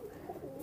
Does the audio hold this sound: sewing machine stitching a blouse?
no